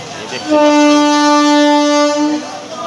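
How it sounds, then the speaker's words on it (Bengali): A passenger train pulls out of the station at Thakurnagar with a loud, sustained horn blast lasting about two seconds, steady harmonic tones over rail rumble, close and dominant before fading slightly. "ট্রেন ছেড়ে দিল"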